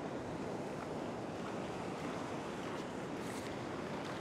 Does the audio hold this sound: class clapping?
no